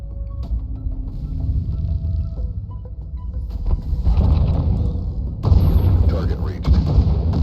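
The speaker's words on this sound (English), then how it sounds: "We have a target lock. Launch the missiles." Missiles launch from a spaceship in the video game Breachway with a deep, rising rumble and roaring thrust that swells in two surges over a low engine drone, loud and close.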